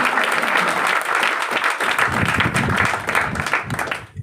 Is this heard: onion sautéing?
no